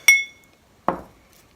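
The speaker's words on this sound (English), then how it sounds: "Okay, I'm going to stir that up" A spoon strikes a glass bowl of oatmeal bath bomb mix, two separate clinks about a second apart, the first bright and ringing, the second duller, each close and fading quickly in an otherwise quiet room.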